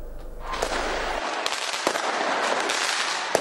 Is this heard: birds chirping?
no